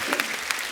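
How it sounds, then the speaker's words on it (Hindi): Audience applause in a Bollywood comedy show studio, a dense burst of clapping with a few sharper claps standing out, loud and close, with no speech over it. "इनके लिए जोरदार ताली हो जाए यार।"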